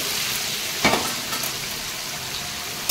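Loud, continuous hot-oil sizzle of mango pieces frying, with a few brief scraping bursts and no talking.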